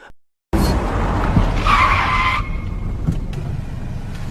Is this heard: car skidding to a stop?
yes